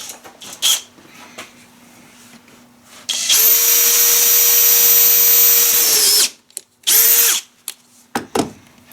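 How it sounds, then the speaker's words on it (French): A power drill fitted with a metal bit bores into a Mercedes W124 under restoration, near the seat, carpet and trim. It whines steadily and loudly for about three seconds, stops, then gives one short burst, with no talk over it. "Et je pense que je peux percer mèche métal."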